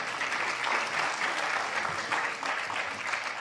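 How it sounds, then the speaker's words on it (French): An audience at a startup pitch competition at a web festival claps loudly and steadily, a dense, continuous wash of applause with no break. "On peut t'applaudir très très fort."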